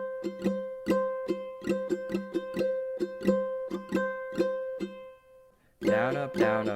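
A ukulele plays a steady down-up strumming pattern for the One Piece opening, with crisp, evenly spaced strums up close, then a voice briefly speaks once the strumming stops.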